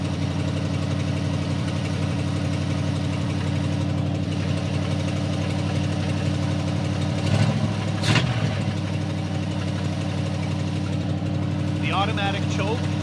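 A Ford flathead V8 idles steadily and fairly evenly nearby, with a continuous low throbbing hum, a brief clatter around the middle and a short squeaky sound near the end.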